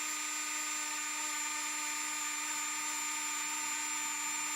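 Worn Dremel rotary tool running steadily at high speed, a loud continuous whine with a constant pitch and no pauses, close and alone without talk.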